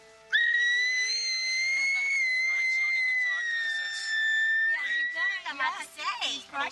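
A long, steady high whistle holds for several seconds, then breaks into shorter warbling whistles and chirps, fairly close and clear.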